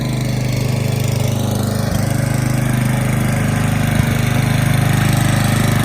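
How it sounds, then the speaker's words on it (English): A gas engine on a firewood log splitter runs steadily nearby, a loud continuous mid-pitched drone with a couple of brief knocks, splitting ash and elm. "he's out running the splitter, getting his stuff split"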